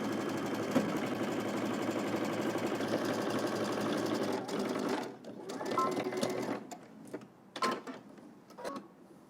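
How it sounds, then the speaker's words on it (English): A sewing machine stitches a cardigan sleeve seam with a steady close mechanical whir, then slows into short stop-start runs and clicks as the seam finishes. "We're going to head to the machine and stitch all the way across using 5/8 of an inch seam allowance"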